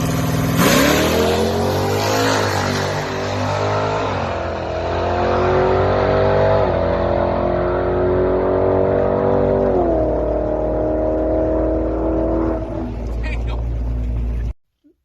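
A drag race car at Rockingham, a bolt-on street car with its wing fitted, launches and pulls hard down the strip, the engine roaring loudly through rising gear pulls before cutting off abruptly.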